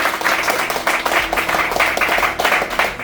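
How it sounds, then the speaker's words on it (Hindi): An audience of students claps for the contest winners with dense, continuous applause, loud and close, holding steady throughout. "इनके लिए दिल से एक बार जोरदार तालियां"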